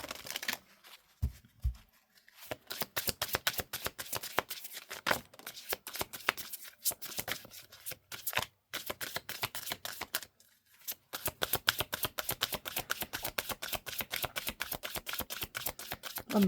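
Tarot cards being shuffled, a long run of rapid, close, crisp riffling flutters in quick bursts with brief pauses between them.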